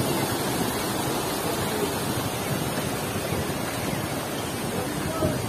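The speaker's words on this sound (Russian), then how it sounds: "Самый большой водопад в самом конце" A large waterfall at the far end of Sapadere canyon near Alanya, Turkey, roars as a steady, dense rush of falling water, loud and unbroken throughout with no voices over it.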